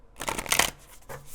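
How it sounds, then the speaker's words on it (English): Tarot cards being shuffled by hand, a quick crisp riffle of fluttering card edges lasting about a second, close and clear with no talking. "Let's do some good old shuffle."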